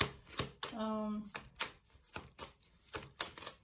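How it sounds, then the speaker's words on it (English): A deck of tarot cards is shuffled by hand in quick, repeated riffling bursts, close and soft, with a voice speaking briefly between them. "Should I stop shuffling?"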